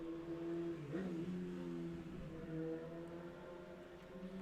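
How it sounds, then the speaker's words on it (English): A motorbike passes outside an open window, its faint engine drone rising and shifting in pitch before steadying and fading, heard from a distance with no talking. "I just had a motorbike go past."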